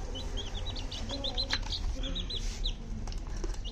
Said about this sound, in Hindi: ये तो चूजे हैं